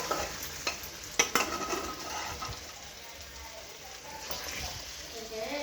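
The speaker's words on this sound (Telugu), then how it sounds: "గోల్డెన్ ఎల్లో వచ్చాక ముందుగా మనం మ్యాగ్నేట్ చేసుకొని పెట్టుకున్న చికెన్ అయితే వేసేసుకోవాలి" Marinated chicken hitting a pan of golden fried onions, giving a steady close sizzle and frying hiss with a few sharp stirring clatters near the start.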